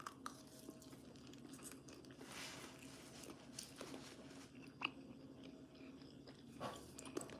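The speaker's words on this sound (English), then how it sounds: "I might be crunching in you guys' ears, but I'm not meaning to do that" Someone eats breakfast close by with quiet, irregular crunching bites and chewing, low and soft, and no talk.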